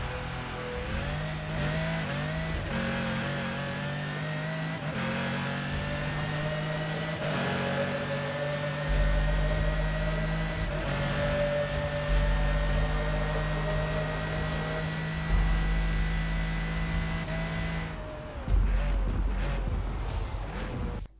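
A Ferrari 599 drift build in Forza Horizon 4 screams through a top speed run, its engine climbing steadily in pitch through several gears with brief dips at each shift, loud and continuous throughout.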